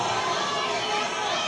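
A studio game-show audience chanting a price together, a dense, loud wash of crowd voices filling the whole moment without a break.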